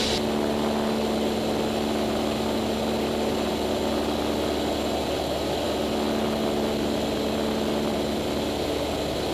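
A small single-engine propeller airplane on the takeoff roll at full power, a loud, steady droning engine and propeller roar that fills the cabin throughout, with no talk over it.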